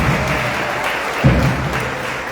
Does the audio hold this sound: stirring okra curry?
no